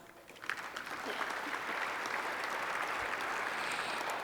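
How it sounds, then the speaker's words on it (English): An audience at a Greater Stockton Chamber of Commerce civic event gives a steady round of applause, dense clapping that swells early and holds evenly throughout. "can we give them a round of applause?"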